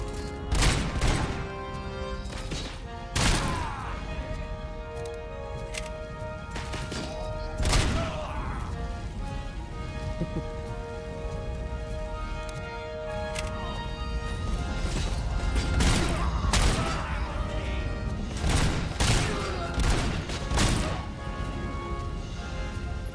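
Pistol gunfire in the Robocop Rogue City video game: sharp repeated shots with loud broadband cracks spaced every second or two, over a constant bed of game music and effects.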